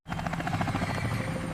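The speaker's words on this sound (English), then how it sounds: "H is for helicopter." A helicopter flies close by, its rotor blades beating in a fast, steady chop over a loud engine whine that holds constant throughout.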